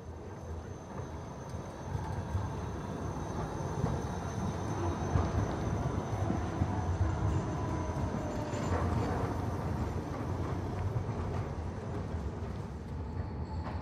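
Trams rolling along Große Ulrichstraße in Halle (Saale), a steady rumbling drone of rail wheels and motors that swells slightly mid-way, heard from street level with some wind on the microphone.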